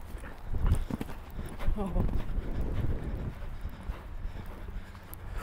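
Horse hooves thud on the ground during show jumping practice, a few heavy landings and strides at moderate distance, with a rider coach talking over them and wind noise in the background.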